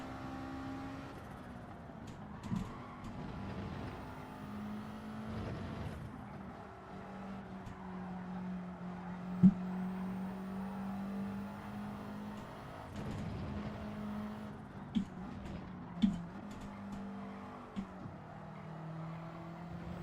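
Subaru engine in Gran Turismo 7 droning at a steady pitch through a race, rising and falling with gear changes, with faint tire noise and a few sharp clicks over a fairly quiet mix.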